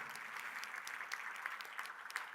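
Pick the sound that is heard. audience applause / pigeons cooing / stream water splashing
audience applause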